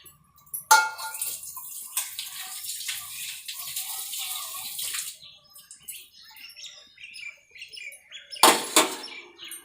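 Liquid splashes and pours into a pan of cooking moong dal payasam in two bursts, a longer steady stream followed by a short sharp pour, fairly close with quiet gaps between.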